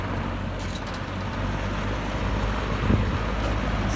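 An old Superlectric box fan running on high gives a steady, close, broadband whooshing drone with a low hum underneath, constant throughout with a slight rise in strength, and no talking.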